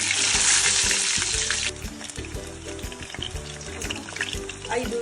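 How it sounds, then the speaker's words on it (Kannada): Brinjal bajji batter fries in hot oil with a loud, dense sizzle that is strongest at first and then settles. A low rhythmic musical pattern runs underneath. "ಹಾಗೆ ಫ್ರೈ ಮಾಡ್ಕೊತಾ ಇದ್ದೀನಿ. ಇದು 5 ನಿಮಿಷ ಫ್ರೈ ಮಾಡ್ಕೋಬೇಕು."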